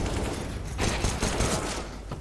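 A fast, overlapping volley of gunshots, including pistol fire, in a CS:GO 5v5 LAN tournament match. Sharp cracks crowd together in a loud, continuous burst, with a brief lull near the end.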